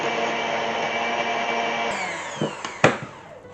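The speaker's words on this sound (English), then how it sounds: "I'm just going to whip it with my hand mixer until it becomes whipped cream" A hand mixer whips cream with blue food dye in a steady, close motor whir that cuts off partway through, followed by a few sharp clicks and knocks.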